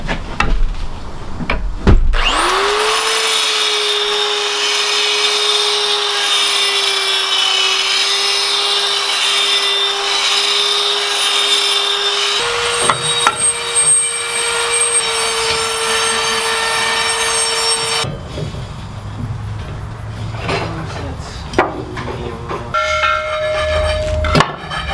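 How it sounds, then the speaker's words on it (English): A die grinder runs at high, steady speed while reworking a worn driveline part for a Tesla-powered Vanagon, a loud sustained whine that shifts pitch midway before stopping, with workshop clatter afterward. "So we're going to take our die grinder, make it a little bit bigger, a little bit faster."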